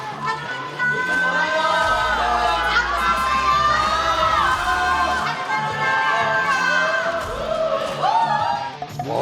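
A large crowd in a television studio shouts and cheers continuously, with high excited voices and whoops layered over one another, loud and close throughout.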